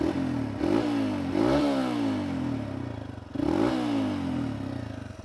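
A modified Hero Xpulse 200 motorcycle engine revs freely at idle, with repeated sharp throttle blips rising and falling in pitch over a steady rumble, close and loud with no talking.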